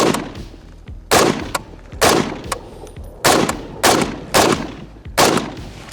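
A battle rifle fitted with a retro-style scope fires about seven heavy, booming single shots at irregular intervals, each close and loud with a short ringing tail.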